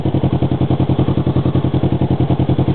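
A motorbike engine thumps along in a steady, rapid pulsing rhythm, loud and close, while riding on a road in Taiwan past elderly riders on scooters, with no talk over it.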